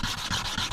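Sandpaper of 320 grit scrubs over a metal block plane in quick, close back-and-forth strokes, a short rhythmic rasping with about three passes.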